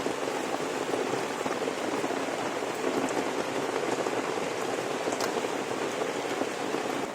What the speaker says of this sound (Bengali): ধুয়ে নেবো থোরটাকে।